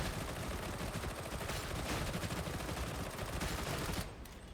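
Shredder pistol fired in the game Warhammer 40K: Darktide, a dense unbroken stream of rapid gunfire bursts filling the sound for about four seconds before abruptly dropping off.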